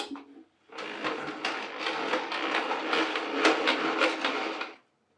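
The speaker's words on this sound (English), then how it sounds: "I'll go ahead and pull it back out by squeezing the trigger and rotating the drum counterclockwise." A Ridgid EZ Spin drain snake being pulled back as its drum is turned counterclockwise gives a steady, busy rattling whir with clicks, close and fairly loud for about four seconds before stopping.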